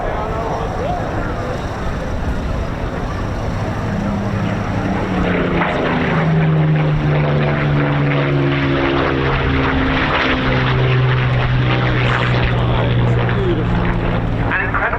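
A Spitfire of the Royal Netherlands Air Force historic flight performs its final display manoeuvre at the RAF Cosford air show, its loud piston engine droning and shifting pitch as it passes, with a commentator talking over it.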